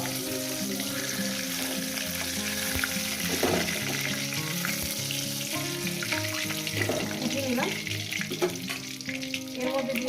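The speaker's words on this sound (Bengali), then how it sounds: "আলুগুলোকে লাল লাল করে ভেজে নেব" Potatoes fry in hot oil in a home kitchen while rohu fish curry is being made, giving a steady, dense sizzle with occasional clinks and stirring sounds throughout.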